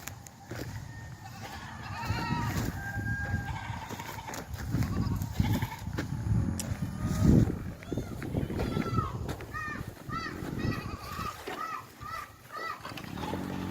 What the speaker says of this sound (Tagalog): At ito naman yung kambing.